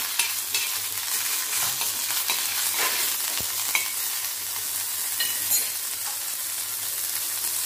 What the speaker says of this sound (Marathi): त्याच तव्यावर आपल्याला थोडीशी कोथिंबीर आणि थोडासा कढीपत्ता पण भाजून घ्यायचा